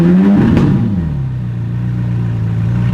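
A Ferrari 458 engine with a faulty surging idle, close and loud, its revs briefly rising then falling back into a steady low rumbling idle with a slight clatter.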